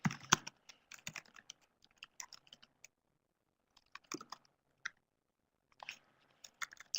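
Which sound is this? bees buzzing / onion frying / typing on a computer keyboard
typing on a computer keyboard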